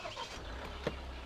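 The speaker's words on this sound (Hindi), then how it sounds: "कार को ऑन कर लेते हैं" A Mahindra Scorpio Classic 2022 base-model engine starts, turning into a faint, steady low idle rumble with a single short click partway through.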